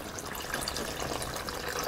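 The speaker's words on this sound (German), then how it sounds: "Deswegen geben wir noch ein bisschen Wasser rein. Und zwar fangen wir an mit dem Gurkenwasser." Pickle brine poured into a soljanka soup in a Dutch oven, a steady trickling, splashing liquid stream close by that runs for the whole stretch without talk.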